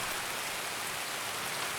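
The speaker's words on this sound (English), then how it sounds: "The rain is good because it covers my sound." Rain in the video game Escape from Tarkov falls as a steady, even hiss of drops on surfaces, constant and unbroken with no voices.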